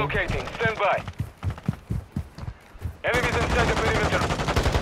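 Gunfire in Call of Duty: Modern Warfare II, a rapid string of sharp shots in the middle with voice-like sound before and a dense burst of noise at the end.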